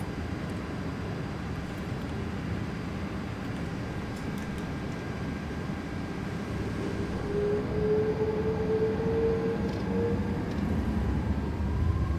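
Jet engines of an Airbus A330 spool up during the takeoff roll, a steady low rumble heard from inside with a rising whine building gradually toward the end.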